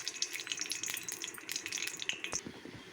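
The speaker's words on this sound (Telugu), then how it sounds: "ఆయిల్ వేసుకున్నాం కదా, ఇందులో పోపు దినుసులు వేసుకుందామండి" Mustard seeds, urad dal and cumin crackling in hot oil for a mango curry tempering, a steady close sizzle with dense sharp pops and spatters throughout, no voices.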